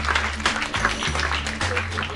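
Audience applause for a comedian walking on stage at a comedy show, a dense, steady patter of clapping held at even loudness the whole way, with a low musical hum underneath.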